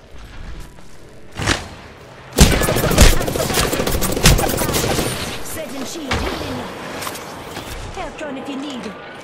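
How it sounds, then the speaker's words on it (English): Bursts of automatic gunfire and single shots in the video game LifeLine, loud rattling volleys with mechanical clicks and booms, some near and some distant, while a game voice talks over the action. "Listen up, I'm getting shot at."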